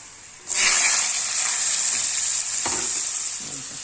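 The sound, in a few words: pumpkin, eggplant and red amaranth frying in oil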